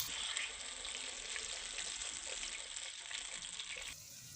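Yam slices fry in hot oil on a stone, with a steady, fairly quiet sizzle and crackle that cuts off abruptly near the end.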